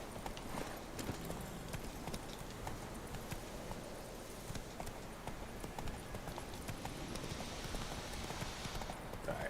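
Roach, a horse in the video game Witcher 3, clip-clops along at a steady walking gait, the hooves crisp and close with a faint shimmer of ambient game sound behind them.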